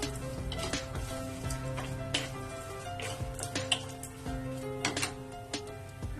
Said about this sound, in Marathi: काजू थोडे छान फ्राय होऊ द्यायचे, 2 ते 3 मिनिटं